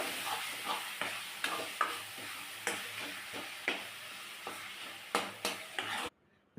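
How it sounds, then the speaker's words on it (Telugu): Tomatoes and coriander fry in a pan while being stirred, a steady close sizzle broken by repeated scraping and tapping strokes of the spoon, cutting off abruptly at the end. "చక్కగా కలుపుకుంటున్నాను."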